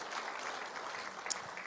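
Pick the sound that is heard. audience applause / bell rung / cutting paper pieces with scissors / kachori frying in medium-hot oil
audience applause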